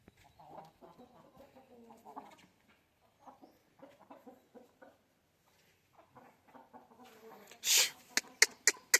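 Hens leaving after laying eggs cluck in short, soft bursts at close range, spaced out over quiet gaps, followed by a few loud sharp knocks or thuds near the end.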